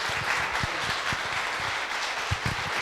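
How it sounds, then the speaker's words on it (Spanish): Strong applause from an audience at a talk on cannabis regulation, welcoming a member of a cannabis culture study centre, with some sharper individual claps standing out in the steady wash. "Un fuerte, pero muy fuerte aplauso para recibirlo"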